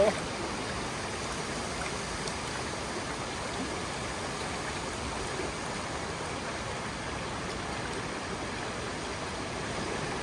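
A strong river current rushes steadily in a close, continuous broadband wash of flowing water, with no breaks or changes over the whole stretch.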